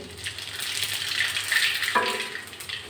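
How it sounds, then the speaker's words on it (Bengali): Nigella seeds tempering in hot white oil in a wok, a bright continuous crackling sizzle close by that swells midway and stays steady to the end. "কড়া বসিয়ে দিয়ে সাদা তেল দিয়েছি গরম হয়ে গেছে আমি একটু কালো জিরে ফোড়ন দিচ্ছি"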